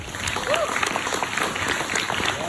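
Students at a junior high school clap together in a classroom, producing a dense, scattered patter of applause of moderate loudness. Voices mix in underneath the clapping.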